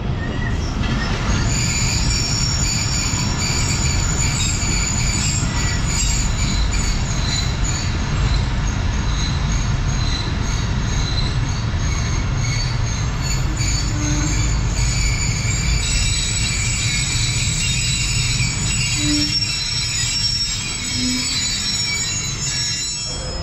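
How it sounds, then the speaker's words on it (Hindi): The Shalimar Express pulls out of Gojra station in winter, wheels squealing in high sustained tones over a continuous heavy rumble and rhythmic clatter of rolling carriages, loud and close throughout. "एक दो मिनट के स्टॉप करने के बाद दोबारा गोजा से रवानगी हो रही है शालीमार एक्सप्रेस की"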